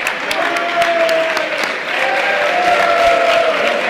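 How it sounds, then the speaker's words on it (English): Clapping from an audience of delegates at a boys' state party convention, moderately loud and continuous, with tonal voices and chatter running through the clapping. "Clap it up, clap it up, clap it up"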